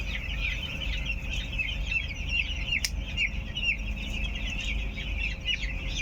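Chickens clucking at a farm, a continuous busy chorus of clucks and chirps from several birds at moderate distance over steady low background noise, with one brief sharp knock midway.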